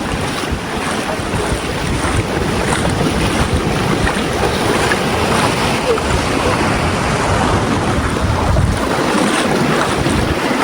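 Strong sea waves surge around the Magpupungko rock pool, a loud continuous rush of surf heavily mixed with gusty wind buffeting the microphone.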